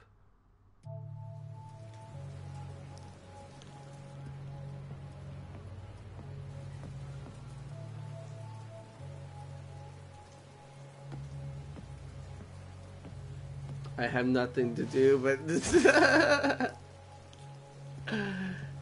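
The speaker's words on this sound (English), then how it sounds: "stand in the middle of the rain" Rain falls steadily in the video game Yakuza 0, a continuous patter under a low hum, with someone speaking briefly and a louder burst of noise near the end.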